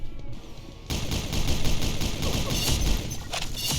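Rapid, dense gunfire from the mobile shooter Pixel Gun 3D in Battle Royale mode, bursting in loud after a short quiet lead-in and rattling continuously to the end.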